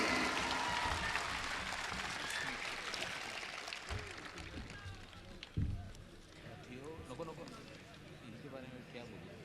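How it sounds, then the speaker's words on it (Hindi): Broad, steady crowd clapping fills the clip, loud at first and gradually thinning out, with a sharp knock partway through. "पुरजोर तालियों से इनका इस्तकबाल कीजिए"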